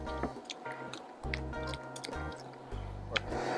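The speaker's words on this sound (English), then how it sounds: "Scrape this down the sides and make sure we have it good and incorporated all the way down at the bottom there." Cornbread batter being scraped down the sides of a mixing bowl with a whisk, giving soft, wet squishing and scraping strokes in uneven bursts, close and fairly quiet, with no talk.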